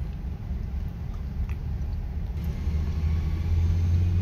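Steady road traffic rumbling across a bridge at LAX airport, a continuous low drone that swells slightly toward the end, with no one talking.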